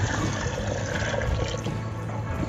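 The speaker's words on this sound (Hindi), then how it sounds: "जिस पानी में हमने चने बॉयल किए थे वही पानी हम इसमें डाल देंगे।" Chickpea boiling water poured into a pan of Lahori chikar choley, a steady, continuous watery rush running close and fairly loud throughout, with no talking.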